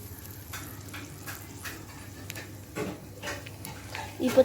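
Tomatoes sizzle faintly as they are stirred in a miniature pan with golden sautéed onions for tomato chutney, a steady low hiss broken by soft scraping taps.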